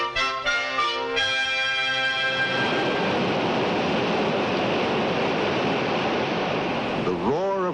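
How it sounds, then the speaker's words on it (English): A broad, steady roar of rushing water fills the clip, loud and continuous, with a few tonal notes fading in at the start. "The roar of rushing water was once just a sound"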